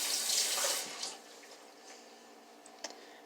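Hands being washed with soap under a running kitchen tap, a burst of flowing water that cuts off after about a second, followed by faint drips and small splashes in a quiet room.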